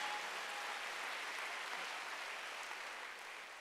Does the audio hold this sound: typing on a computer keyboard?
no